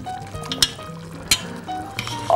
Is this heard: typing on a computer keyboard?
no